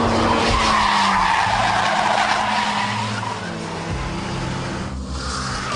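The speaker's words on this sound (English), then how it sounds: "the 90-degree handbrake turn, the handbrake turn followed by reverse flick" Car tires screech and skid in a long sliding squeal over a roaring engine during a 90-degree handbrake turn, then the engine keeps running as the skid fades.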